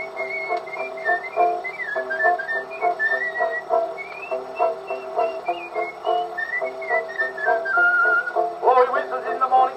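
A man whistles a lilting, warbling tune on an old vaudeville recording, continuous and melodic over a band accompaniment, with no talking.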